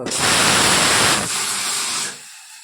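Hot spice tempering, with red chili, a little turmeric and garam masala, poured over dal, bursting into a loud hissing sizzle that fades out over about two seconds.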